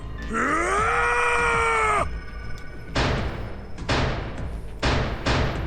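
A video game character in Zero Escape 999 lets out a loud, drawn-out pained cry lasting about two seconds, followed by several heavy thuds or bumps in a rough rhythm.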